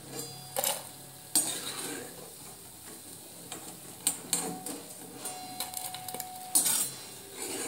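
Fried moong dal pakoras are lifted out of a pan of hot oil: scattered metallic clinks and scrapes of a utensil against the pan over a faint, low sizzle, with irregular spacing and no voices.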